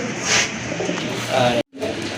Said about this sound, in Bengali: প্রথমে আপনারা দেখতে পাচ্ছেন এক জোড়া লাহোরি কবুতর